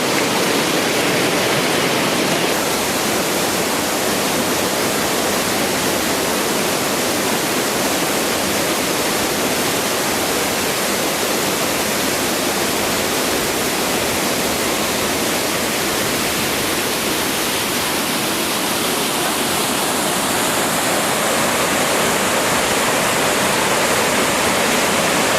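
Cascading waterfalls on Efate, Vanuatu, roaring as a loud, unbroken broadband rush of falling water that holds steady throughout, close by and alone.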